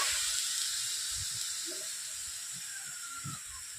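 Cauliflower florets steam in a wok with a little water, giving a continuous soft hiss at moderate level with faint low bubbling thumps underneath, and no talking.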